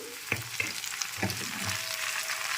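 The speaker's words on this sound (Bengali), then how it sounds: "সব কিছু একসাথে খুব ভালো করে নেড়েচেড়ে একটু মিশিয়ে নিচ্ছি" Ginger paste and tomato puree with ground spices are stirred in a pan, with a soft sizzle beneath a few sharp spatula knocks and scrapes, close by.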